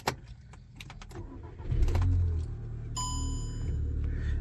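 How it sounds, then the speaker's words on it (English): A car engine cranks and starts after new audio equipment is wired in, rising to a steady loud idle with a dashboard chime ringing over it; faint clicks and key sounds come first. "let's start the car and see what happens"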